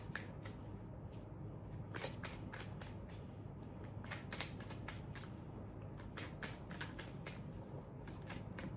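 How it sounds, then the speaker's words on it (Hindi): Tarot cards are shuffled continuously at close range, giving quiet repeated riffling and flicking bursts with no talking. "I will shuffle 3 cards"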